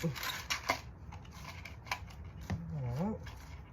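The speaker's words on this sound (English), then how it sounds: "Cut it with wire cutters." Wire cutters cut picture-hanging wire with a few quick, crisp snaps close by, mixed with faint handling noise and a brief tonal squeak, with no speech.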